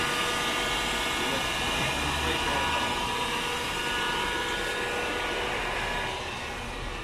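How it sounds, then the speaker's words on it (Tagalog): A blower heater runs steadily behind an air-con compressor, melting ice during a freon recharge: a loud, continuous broadband whoosh with a faint hum, holding even throughout and easing slightly at the end. "gumamit tayo ng blower heater para madali yung ating pagtunaw ng yelo"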